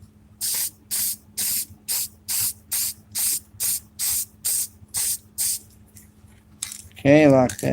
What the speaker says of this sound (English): Now I'm just going to spray this here.